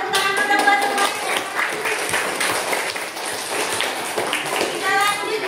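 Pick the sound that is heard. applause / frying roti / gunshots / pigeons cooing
applause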